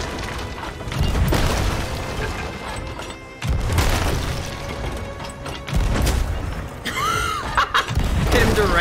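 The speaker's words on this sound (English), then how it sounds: "Directly with the cannon." Ship cannons boom repeatedly during a Sea of Thieves sloop battle. Several heavy blasts sound over constant wind, waves and game noise, with a rising whistle near the end.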